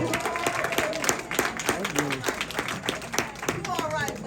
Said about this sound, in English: Can we clap it up for love